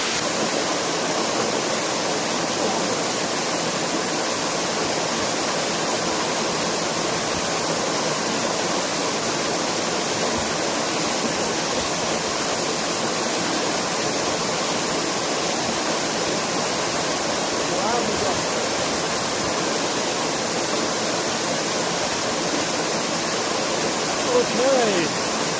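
A waterfall at Complexo Paraíso in Delfinópolis, Brazil roars in a constant, loud, broadband rush that stays even throughout, with a faint voice near the end.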